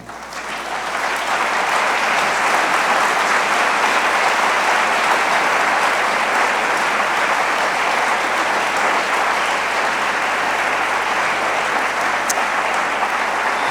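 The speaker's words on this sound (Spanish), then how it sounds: "Démosle un fuerte aplauso al Señor" A church congregation gives a loud, sustained round of applause to the Lord, a thick, continuous roar of many clapping hands that builds quickly and stays strong to the end.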